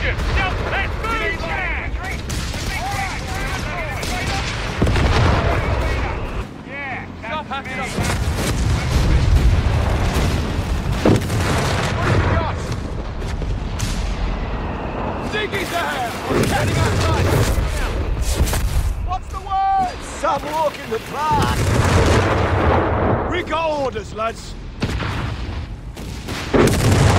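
A World War II battle in the strategy game Company of Heroes 3 rumbles continuously with rifle fire, booming artillery and explosions, loud and dense throughout, while soldiers' shouted voice lines cut in over the combat.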